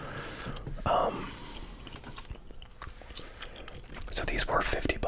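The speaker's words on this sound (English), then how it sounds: "I'm just typing in some searches here." Fingers tap searches on a computer keyboard in irregular clicky bursts, close and crisp, mixed with soft whispered speech in a quiet room.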